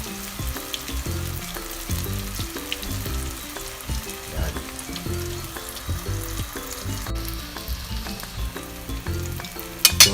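Eggless kangkong (water spinach) fritters fry in hot oil with a continuous crackling sizzle, punctuated by irregular pops and utensil clatter, close up and with no voices.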